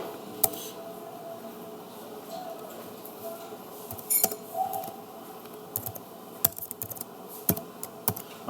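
Someone types on a laptop keyboard with scattered, sharp key clicks and short bursts of taps. A low voice is heard faintly in the background.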